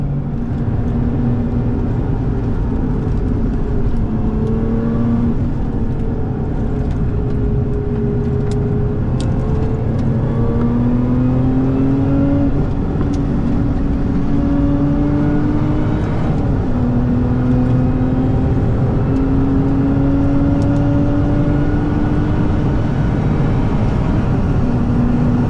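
Lotus Emira V6 with a manual gearbox, engine note rising steadily under hard acceleration through the gears, with pitch dropping at each upshift, continuous and close over road and wind noise.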